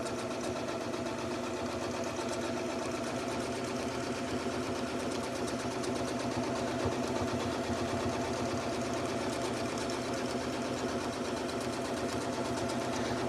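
A sewing machine runs steadily while free motion quilting a feathered wreath, a close, continuous fast mechanical whir and chatter with no pauses or voices.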